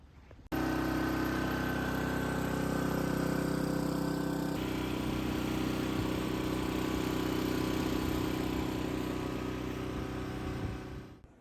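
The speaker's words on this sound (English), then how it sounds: "So we get the chipper, start filling this thing up." A wood chipper runs steadily and loud, its engine droning under a broadband grinding roar as it shreds palm fronds for filling a raised garden bed, starting abruptly and continuing for about eleven seconds.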